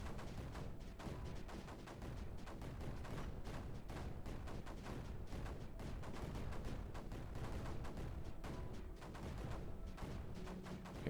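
Cannons in the Creeper World 4 video game fire in a dense, continuous barrage of rapid booming shots, with steady loudness and no talking.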